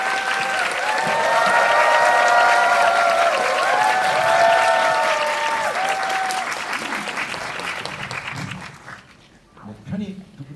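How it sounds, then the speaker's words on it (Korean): Theatre audience at a cinema talk event applauds steadily as two guests are welcomed, the dense clapping swelling and holding for several seconds before tapering off. Voices talk over the start, and a few scattered claps linger at the end. "박수로 맞이해 주십시오"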